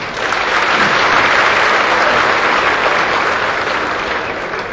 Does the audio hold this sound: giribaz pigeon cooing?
no